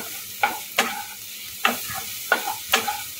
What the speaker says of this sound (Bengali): পেঁয়াজটা লাল লাল করে ভেজে নেওয়া হয়ে গেছে